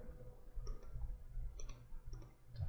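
Keyboard delete key pressed several times, giving faint, sharp little clicks spaced irregularly over a low background hum.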